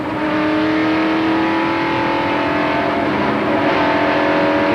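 A race car engine drones loudly and steadily in third gear at Pocono International Raceway during a 1994 ARCA SuperCar Series race, its pitch rising and falling slightly as the throttle is worked.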